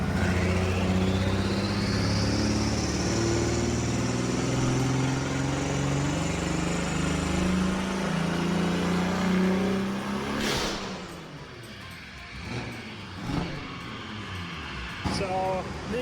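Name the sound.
BMW F80 with big turbo, engine revving and turbo spool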